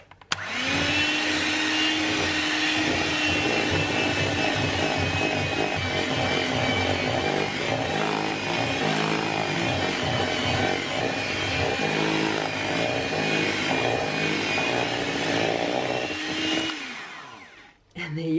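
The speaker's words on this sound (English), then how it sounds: "We're going to whisk all of that in." An electric mixer whisks mascarpone chocolate frosting with a loud, steady motor whir that runs almost without a break, then cuts off near the end.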